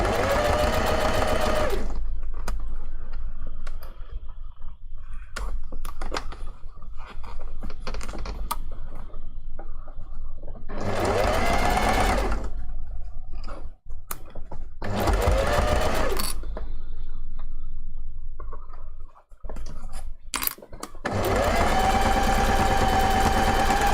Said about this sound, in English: But you can also machine sew it like I'm doing.